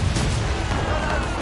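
Cannon fire in the naval game Assassin's Creed Rogue: a dense, loud, continuous rumble of booming shots that blend into one wash of noise, with shouting voices faintly mixed in.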